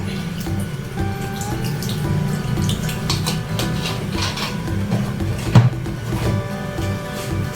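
Vinegar poured into a pot of tulingan (bullet tuna) during home cooking, a steady liquid splash and trickle running throughout over kitchen background noise, with one brief louder clunk near the end.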